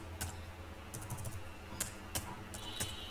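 Code is typed on a computer keyboard in scattered, fairly quiet key clicks and taps, irregular and close, over a low room hum with no talking.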